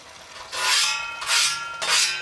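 A blade is drawn across a coarse carborundum whetstone in three long, gritty rasping strokes, each close and fairly loud, with brief pauses between them.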